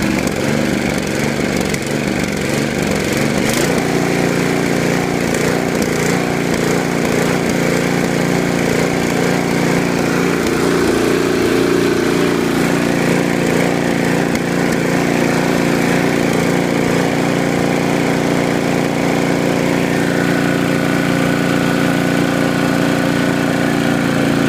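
A snowblower engine runs steadily with the choke partly to almost fully on, giving a loud, continuous mechanical drone for the whole stretch with no talking.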